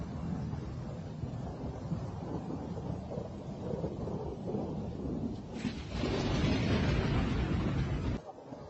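Thunderstorm recorded outdoors on a phone, a steady broad rumble of rain and wind buffeting the microphone, swelling louder near the end before cutting off abruptly.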